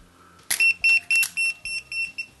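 A wire stripper and crimping tool, a Tesmen TWS-322, gives a string of six short, loud electronic beeps at a steady rhythm, close by, with no talking.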